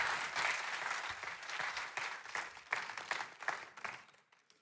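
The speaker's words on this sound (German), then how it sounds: "Applaus für Rebecca Kleister." An audience at an ICF Zürich church service applauds Rebecca Kleister, with dense, steady clapping from a sizeable crowd that holds for several seconds and then thins out toward the end.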